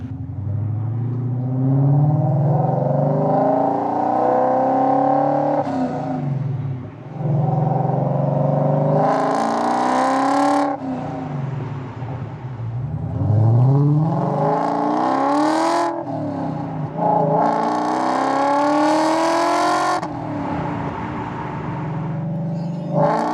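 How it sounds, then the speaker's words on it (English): A BMW E39 540i V8 with long-tube headers and a muffler delete is driven, its raspy exhaust rising repeatedly through the gears with each shift marked by a brief dip, loud and close from start to finish. "The headers give it a more raspy sound than it would otherwise have with the normal headers on there."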